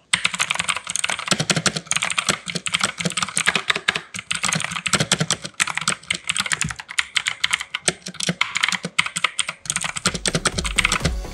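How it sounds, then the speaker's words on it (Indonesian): Rapid typing on an Armaggeddon mechanical keyboard with blue switches, a loud, dense run of crisp clicky keystrokes heard up close without speech. "kelihatan sekali kan untuk suara dari karakter blue switch-nya dari Armageddon ini menurut saya lebih berisik"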